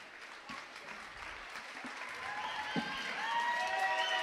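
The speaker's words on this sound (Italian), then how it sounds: "Vieni qua, prenditi il suo applauso." Applause from an audience at a school performance event, starting moderately and swelling louder over a few seconds, steady clapping with a few sharper individual claps.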